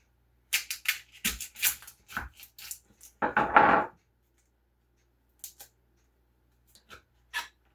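A knife chops a vegetable on a cutting board for freezing: a quick run of crisp, close cuts, then a louder scraping burst, followed by a few sparse single taps after a pause.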